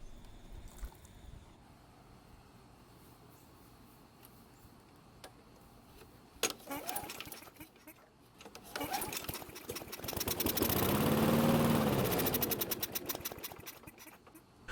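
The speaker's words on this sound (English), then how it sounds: "the engine started and ran for a few seconds" A Weedeater lawn mower engine sputters to life on fuel poured into the carburetor throat after some quiet clicking and shuffling, then runs loudly and steadily for a few seconds before dying down.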